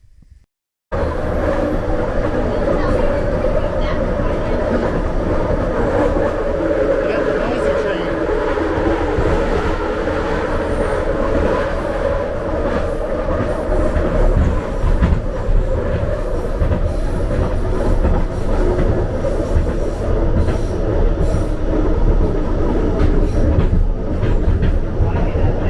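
Loud, continuous rumble and rattle of a Scarborough Line 3 subway train in motion, heard from inside the car, with wheel squeal and clattering track noise sustained throughout and no break in the din.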